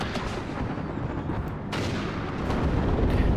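Battle din from the video game WARNO, with an M113 carrying a 90mm cannon amid a large NATO versus Soviet fight: rumbling, continuous artillery and gunfire booms with a sharp blast midway, heavy and unrelenting.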